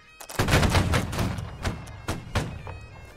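A ragged musket volley in Holdfast: Nations at War, with many overlapping shots cracking out close and loud at once, followed by a scatter of single late shots echoing over the next few seconds.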